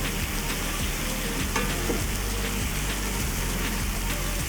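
Beef sears in a hot pan with a dense, continuous close sizzle and crackle that holds steady throughout, with no voices.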